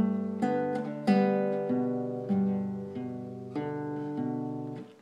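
Guitar picking out the first bar of a song intro with thumb and index finger, a steady run of plucked notes and chords ringing alone, each attack fading into the next, close and clear.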